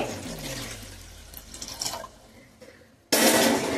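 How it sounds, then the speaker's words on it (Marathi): Water is poured into an iron wok on a gas stove to steam spinach vadi, making a close, rushing splash that fades off, then a sudden loud, steady pouring surge near the end. "कढईमध्ये पाणी टाकते"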